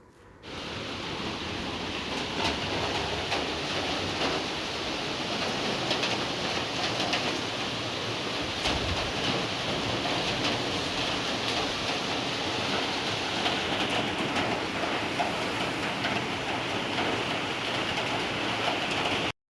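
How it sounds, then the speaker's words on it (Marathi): Heavy morning rain pours steadily outside a home balcony, a dense continuous hiss of falling water that stays even and fairly loud throughout with no talking. "मध्यरात्रीपासून पाऊस ना थोडासा बारीक बारीक सुरू झालेला पण सकाळी हा इतक्या जोरात सुरू झालेला होता"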